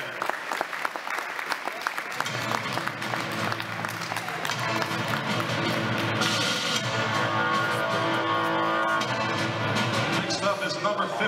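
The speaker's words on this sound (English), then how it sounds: "Let's give a round of applause for number 98," A crowd at a Palmyra Cougars hockey senior night bursts into loud, sustained applause and cheering for a departing player, the clapping dense and continuous throughout.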